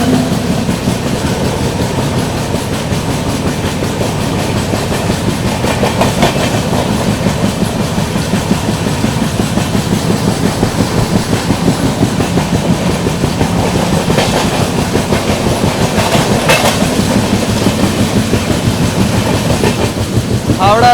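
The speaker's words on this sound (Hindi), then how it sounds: "सामने से आ रही है आप लोगों की हावड़ा नई दिल्ली राजधानी एक्सप्रेस" The Howrah–New Delhi Rajdhani Express rushes past up close, a loud continuous rumble with steady clickety-clack of wheels over rail joints that holds for the whole stretch.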